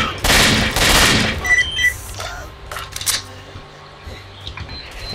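Gunfire from the video game S.T.A.L.K.E.R. crackles in a loud burst of rapid shots at the start, followed by scattered fainter pops and game sounds.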